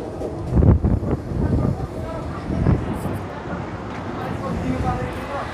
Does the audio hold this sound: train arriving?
yes